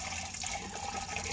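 Lime-infused liquid pours steadily into a drink dispenser, a continuous splashing, bubbling stream heard up close with no other sounds.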